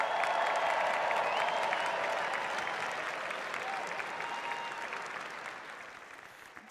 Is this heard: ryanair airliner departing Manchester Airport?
no